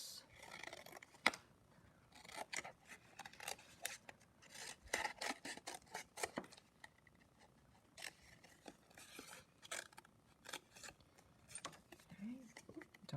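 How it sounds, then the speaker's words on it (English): Scissors snip repeatedly through paper for an illuminated-letter art project, close and crisp, the cuts coming in quick irregular bursts with short pauses between. "I'm going to cut straight across, like that, and like that."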